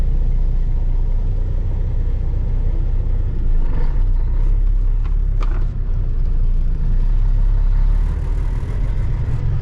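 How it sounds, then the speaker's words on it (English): Kenworth truck driven on a farm, a low engine rumble running steadily at close range with a few brief clatters in the middle, no one speaking. "I haven't driven a K-Dub in a while. Kenworth."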